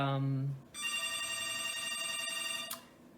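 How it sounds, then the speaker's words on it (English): A telephone rings indoors with a bright, steady electronic trill lasting about two seconds, following a short stretch of speech at the start. "oh, that'll be the phone"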